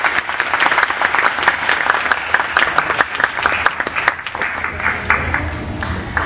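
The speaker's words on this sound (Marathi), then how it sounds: "त्यामुळे त्यांच्यासाठी सुद्धा जोरदार टाळ्या झाल्या पाहिजे" Audience applause at an award ceremony honoring mothers, dense sustained clapping from a large crowd filling the room, steady and loud throughout with no speech over it.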